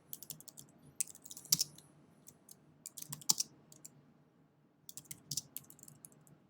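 Computer keyboard typing while working in Adobe Illustrator, quick bursts of soft clicking keystrokes separated by short pauses, close and quiet.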